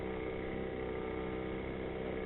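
Outboard motor on a Leisure 17 sailboat running steadily at sea off the Bideford bar, a constant droning hum at even loudness throughout, with no talk over it.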